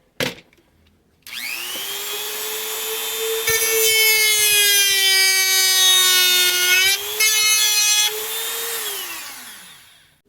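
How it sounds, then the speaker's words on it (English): A rotary tool fitted with a conical sanding bit grinds down a broken plastic trigger nub on an airsoft gun, a steady high-pitched whine that starts after a second, shifts pitch slightly as the bit bears on the plastic, then winds down. "I'm going to be using this conical sanding end here on this rotary tool to sand away the rest of this little nub here"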